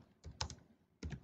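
Keys on a computer keyboard get quick soft presses in two short clusters separated by a pause, sounding close but faint in a quiet room.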